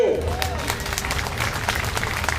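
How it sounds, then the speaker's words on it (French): Crowd applause at an outdoor car show, a continuous patter of many hands clapping at moderate level, mixed with chatter and voices in the background. "Bravo, on applaudit bien fort."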